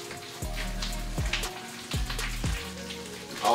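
A knife chops fresh parsley on a board, giving a handful of irregular, fairly close knocks separated by short pauses.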